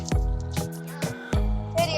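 Water drips in a washroom in the Roblox game Daycare Story 2, five distinct resonant plinks at irregular intervals over about two seconds, close and clear with no one talking.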